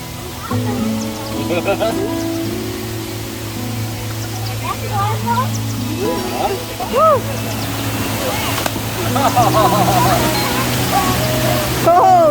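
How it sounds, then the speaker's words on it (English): Cold mountain spring water of Banahaw at a resort in Nagcarlan, Laguna, flows in a steady rushing wash under a low engine-like hum, with people talking over it throughout. "Cold mountain springs. The waters of Banahaw."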